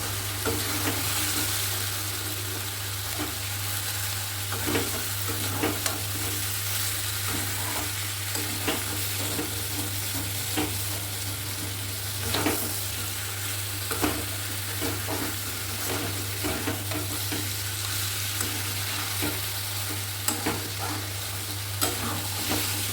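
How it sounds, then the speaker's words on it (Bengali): Chicken pieces sizzle as they are stir-fried with salt in a pan for a Bengali recipe, with steady frying hiss and repeated scraping strokes of a spatula over about twenty seconds, close and alone without talk. "আর দিয়ে দিচ্ছি লবণ দিয়ে আরও কিছুটা কষবো"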